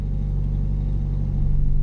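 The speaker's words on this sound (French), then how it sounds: "je lève les pieds gauche jusqu'à ce que la voiture bouge" A car pulling away as the driver slowly lets out the clutch: a loud, low engine rumble holds steady close by, rising slightly in level toward the end.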